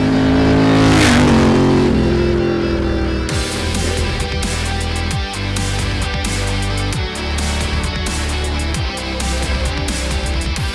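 A Ducati 900SS motorcycle on a road test, passing close with a loud engine roar, then a continuous throbbing exhaust note that rises and falls as it pulls through gears, with no speech.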